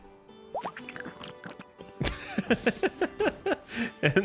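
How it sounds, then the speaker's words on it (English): RimWorld pawn ingesting deathrest serum in-game: a close run of wet squelching, dripping and slurping plops, quick and irregular, alone without talk. "That is the sound of Jackalope ingesting the death rest serum."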